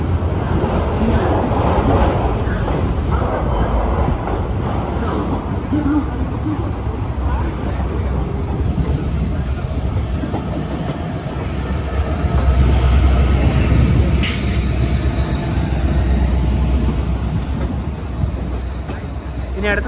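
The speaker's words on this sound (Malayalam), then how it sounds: "11:18 ന്യൂ തിൻസുക്കിയ റെയിൽവേ സ്റ്റേഷനിൽ ട്രെയിൻ എടുത്തിരിക്കുകയാണ്." Steady low rumble and rattle inside a sleeper-class coach of a train pulling out of New Tinsukia toward Ledo in Assam, continuous and fairly loud throughout, with faint voices in the carriage.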